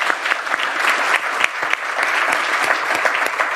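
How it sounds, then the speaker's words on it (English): Loud round of applause from an audience for panelists, a close, steady wash of many hands clapping throughout without speech. "round of applause for our panelists"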